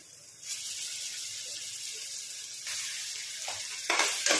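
Ginger and garlic paste sizzling in hot oil in a pan, a steady close hiss that swells louder near the end as the frying intensifies, with no talking.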